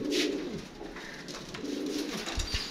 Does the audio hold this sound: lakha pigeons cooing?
yes